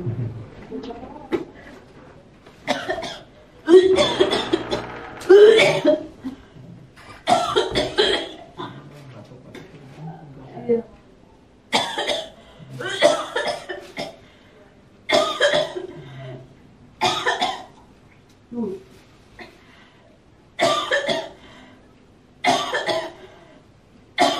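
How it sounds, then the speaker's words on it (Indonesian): A person coughs repeatedly in loud bursts, harsh and close, separated by short pauses across the whole stretch, with a few faint vocal sounds in between. "Batuk terus aku."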